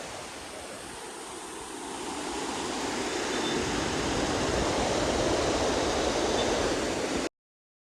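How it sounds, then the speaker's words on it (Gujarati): Heavy monsoon-style rain falls over a village, a dense, steady hiss that swells louder over several seconds before cutting off abruptly, with no voices. "જોવો અમારા ગામનો વરસાદ તમે જોવો ખાલી કેવો વરસાદ આવ્યો છે"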